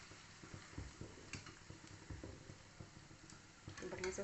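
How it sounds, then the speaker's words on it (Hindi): Samosas frying in oil on a low gas flame, a soft, steady sizzle with faint irregular crackles and occasional stirring clicks, fairly quiet and close. "फ्राई कर रही हूँ।"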